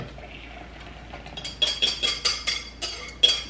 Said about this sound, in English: I'm going to tip a little bit in here. Whisk that together.